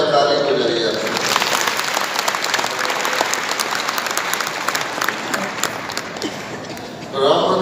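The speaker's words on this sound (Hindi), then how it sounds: "तो पहली बार आया ताली बजाई आप।" Audience applause fills a large hall at a spiritual gathering, steady and dense clapping from many hands throughout, with a voice briefly speaking near the end.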